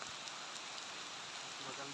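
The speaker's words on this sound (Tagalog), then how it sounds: "sinabayan pa ng malakas na ulan" Heavy rain pouring during a trail ride, a steady broadband hiss of downpour that holds at an even, faint level throughout, with no distinct voices.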